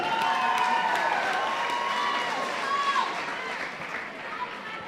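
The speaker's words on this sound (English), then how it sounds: "Let's give our boxers a big round of applause." A boxing crowd applauds and cheers after a bout has gone the distance, a loud wash of clapping and voices that slowly fades, with some talk mixed in.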